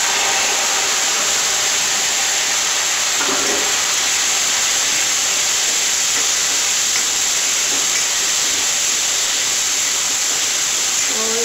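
Garlic sizzling in a pan over high gas flame, a steady broadband hiss running throughout, loud and close, with faint clatter now and then.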